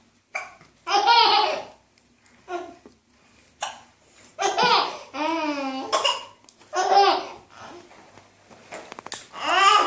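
A young child hiccuping repeatedly at irregular intervals, short sharp catches mixed with giggling and babbling, close and clear in a quiet room.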